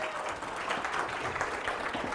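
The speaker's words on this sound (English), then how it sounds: "So give us a nice warm round of applause and welcome to Kristen" Steady, dense applause from an audience at a community talk on well-being and mental health, welcoming a speaker to the front; an even wash of many hands clapping throughout, with no voices standing out.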